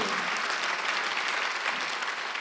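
A church congregation at a Korean Sunday worship service claps together, a dense and steady burst of applause filling the hall from start to finish with no voices over it.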